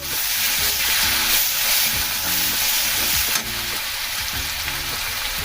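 Garlic paste fries in hot oil with a bay leaf, giving a loud, steady sizzle that hisses on unbroken for several seconds and has no voices over it.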